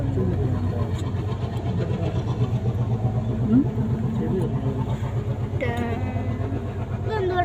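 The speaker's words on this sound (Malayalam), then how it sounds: "നമ്മളിപ്പോൾ മാവേലിക്കരയിലെ ട്രെയിൻ സ്റ്റേഷനിലാണ് കിടക്കുന്നത്. ഇതാ ഒരു ട്രെയിൻ പോകുന്നു." A train rumbles steadily past at Mavelikkara railway station, a continuous low engine drone with clattering, and a person talks over it.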